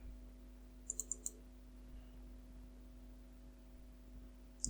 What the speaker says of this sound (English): now to connect to it, you can just double click